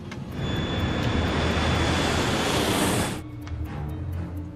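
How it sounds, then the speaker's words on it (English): A jet airliner on LAPA flight 3142 roars down the runway at Buenos Aires during its takeoff roll, a loud, sustained engine rush that cuts off abruptly into quieter rumble. "the plane had enough speed and runway available to lift off safely"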